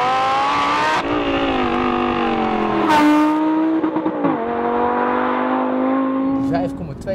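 Lamborghini Gallardo LP 560-4 with its 5.2-litre V10 revving, several sharp throttle blips and rising wails with brief drops between them, loud and close, while someone talks over parts of it.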